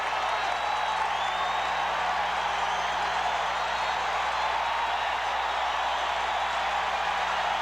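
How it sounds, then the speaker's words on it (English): A baseball stadium crowd on its feet at a 1983 Dodgers versus Braves game, bases loaded in the ninth, a dense, steady roar of cheering that holds without break, heard at a distance. "And this crowd on its feet and pleading."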